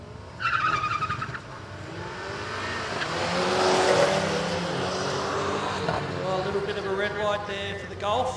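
A little yellow Renault hot hatch and a VW Golf GTI drag racing, with engines revving and tires squealing as they launch, then a sustained engine roar that rises and fades, under a commentator talking over a public address.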